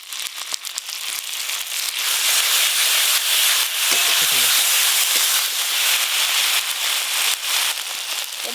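Grated tomato goes into a hot pan of frying spices with ginger-garlic paste and turmeric, giving a loud, steady sizzle and hiss with a few scraping stirs partway through.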